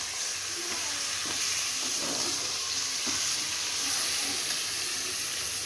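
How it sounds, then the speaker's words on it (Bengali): Minced mutton keema hitting a hot pan with fried ginger-garlic paste, sizzling and hissing steadily with scattered spatula scrapes and stirs, close and continuous. "এবার আমি মটনটাকে দিয়ে দেব"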